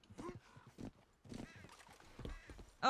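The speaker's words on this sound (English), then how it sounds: "my horse is following me because my horse is amazing." Horse hooves clip-clopping in Red Dead Redemption 2, with a whinny, heard in short bursts under a player's talking; a sharp louder sound cuts in at the end.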